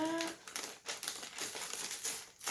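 A parcel from a mailbox being torn open, its paper or plastic crinkling and ripping in quick, close, irregular bursts with a few brief pauses.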